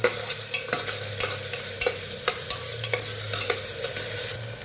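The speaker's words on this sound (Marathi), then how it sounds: "अद्रक लसूण कोथिंबीरची पेस्ट, चांगलं मिक्स करून घेऊया" Mutton being stirred in a hot pan with ginger, garlic, coriander paste and tomato for a spicy rasa curry, giving a steady sizzle with regular scraping strokes of the spoon, close and alone.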